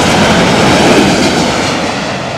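A Boeing 787 airliner arriving over the top of the paddock, with a steady, loud broad engine roar that holds throughout and fades slightly toward the end.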